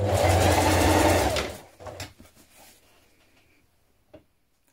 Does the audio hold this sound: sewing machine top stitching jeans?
yes